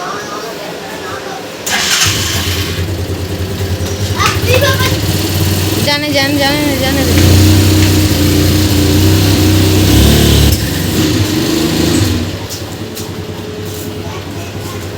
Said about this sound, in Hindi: पापा गाड़ी बाहर निकाल रहे हैं